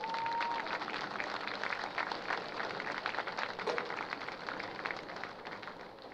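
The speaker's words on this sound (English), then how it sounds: "Give them a big round of applause." Crowd applause for the AYF Broncos youth football clubs at a varsity high school football game, a dense steady patter of clapping filling the stands for several seconds with a faint whistle near the start.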